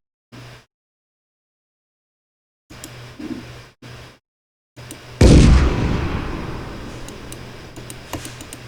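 Tank cannon fire in an Unreal Engine game: short clipped bursts broken by silence, then one loud booming blast that rolls off into a long decaying rumble.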